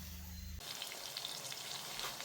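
Kingfish pieces drop into hot oil in a pan for pickle, and a brief low hum gives way to a close, crackling sizzle with popping spatters.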